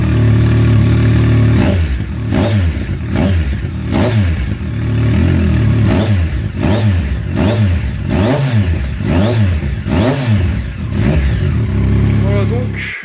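A Yamaha MT-09 Tracer motorcycle fitted with an Arrow exhaust whose DB killer baffle has been drilled out revs loudly and close up in repeated rising and falling bursts, a rough, throaty three-cylinder bark with talk mixed in.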